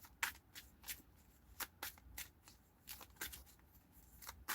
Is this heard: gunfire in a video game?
no